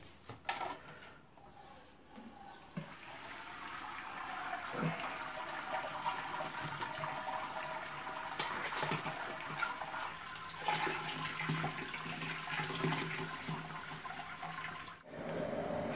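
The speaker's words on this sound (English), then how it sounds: "Let's pull the basket." Wort pouring and draining steadily from a lifted mash basket during all-grain brewing of a rye IPA, a continuous close rush of falling liquid with small splashes that fades near the end.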